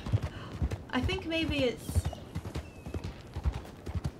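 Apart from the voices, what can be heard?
horse hooves clip-clopping while riding in a video game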